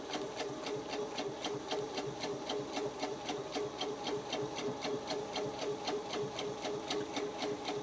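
A sewing machine stitches a spider web spoke in a fast, even, rhythmic chatter of needle strikes that stays close and steady throughout, with no voices.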